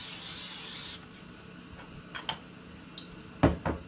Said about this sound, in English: make sure you have a 13x9 pan and you spray it